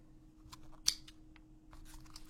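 Small scissors on a black NexTool Flagship Pro multitool snipping through thin Kevlar cord give a faint, close snip with a brief sharp click at its peak, set against a quiet hum and no speech.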